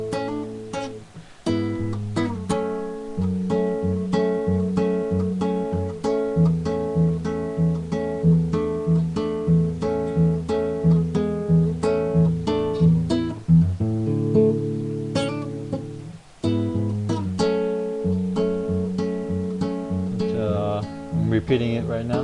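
An acoustic guitar plays the opening part of a song as a steady, fingerpicked arpeggiated pattern with ringing notes and a brief pause partway through, close and clear with no talking.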